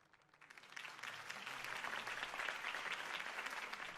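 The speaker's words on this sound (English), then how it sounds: "If only Mr. Wayne, my campaign's largest backer, could have heard that applause" Crowd applause in the Batman Telltale video game rises quickly from quiet and holds as a broad, even wash of clapping, somewhat distant and soft.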